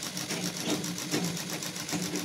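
An electric sewing machine stitching a ladies' purse runs in a steady, continuous whir with a fast mechanical chatter, close and even throughout, no voices.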